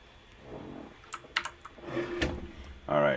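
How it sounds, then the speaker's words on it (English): Someone types on a computer keyboard, producing a brief scattered run of sharp key clicks close by, with someone speaking around them. "Still typing in the wrong window."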